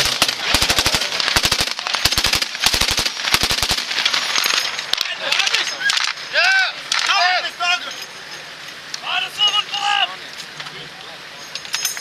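A quick series of sharp gunshots at a Latvian home guard shooting exercise, fired in tight rhythmic bursts close by, then giving way to outdoor ambience with birdsong.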